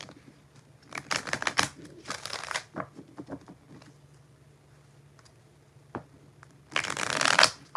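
Tarot cards being shuffled in several brisk bursts of riffling and flicking, with quiet gaps between them, close up and with no talking.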